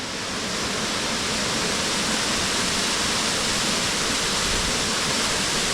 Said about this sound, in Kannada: ಓ ಜಲಪಾತವೇ